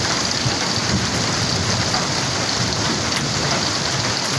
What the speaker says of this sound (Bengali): উপজেলায় আজ সন্ধ্যার পর থেকেই বৃষ্টি হচ্ছে